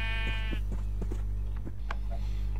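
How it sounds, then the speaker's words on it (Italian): Minecraft sheep bleat from a video game, one clear bleat at the start followed by faint bleats and small game sounds over a steady low electronic hum. "sono riuscito a portare a casa queste pecore ingrate"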